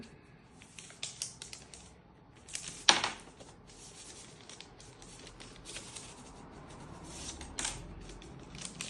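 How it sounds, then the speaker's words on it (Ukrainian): A pair of chopsticks is opened at a sushi meal, giving faint rustling and light crinkling around one sharp, clear crack, all quiet and close. "Я зараз відкрию палички."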